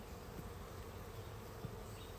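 Honey bees buzz steadily and faintly around an open hive during an inspection, a continuous low drone with no voices.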